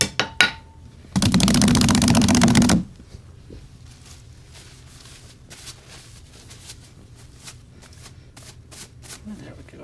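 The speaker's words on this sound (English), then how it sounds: "I'm going to go back and clean off my brush" A paintbrush being cleaned off during a landscape painting session, a brief burst of dense rapid slapping and flicking lasting about a second and a half, close and loud, followed by quieter soft rustling and tapping.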